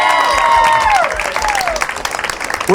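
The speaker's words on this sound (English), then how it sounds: "A big round of applause, everyone." Wedding guests at a reception break into sustained applause and some cheering for the newlyweds, loud and close, with a voice speaking and a sliding tone over the clapping.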